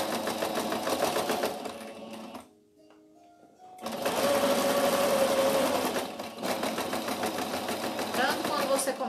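A sewing machine stitches clothes for a rag doll, running in close, loud continuous bursts. It stops briefly, then starts again and keeps stitching steadily.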